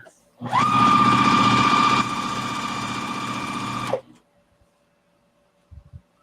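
A sewing machine runs in one continuous burst of about three and a half seconds while stitching a scrappy quilt block of leftover charm squares, a close, loud, even mechanical hum, followed by faint handling clicks.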